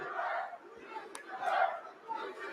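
A press-conference crowd chants and shouts at Jake Paul, its voices surging in two or three swelling waves with a brief sharp noise between, heard from some distance and fairly faint.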